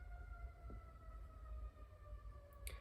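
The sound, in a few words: city sirens in the background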